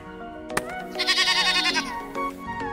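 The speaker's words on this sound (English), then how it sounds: "Sheep." A sheep gives one wavering, drawn-out bleat of about a second, preceded by a short click and set against a faint, steady background.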